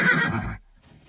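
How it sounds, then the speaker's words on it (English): A horse in a period drama gives a loud, close whinny that falls away in under a second and is followed by near silence. "But the horse is lame."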